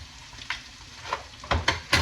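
Kangaroo steaks fry in a pan with a steady sizzle, broken by a few sharp clanks and scrapes of stirring and turning that grow denser toward the end.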